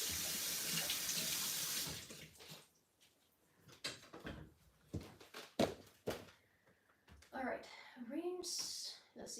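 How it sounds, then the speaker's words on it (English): A kitchen faucet runs steadily while hands are rinsed under it, then shuts off, followed by scattered thunks and clatter and a person speaking nearby. "Let me rinse off real quick."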